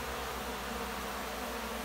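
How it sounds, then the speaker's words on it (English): Honey bees buzzing inside a strong, crowded hive kept in a house, a dense continuous hum with a low pulsing throb, close and loud, without any voices. "the bees are pushing them out, but there's enough bees in here"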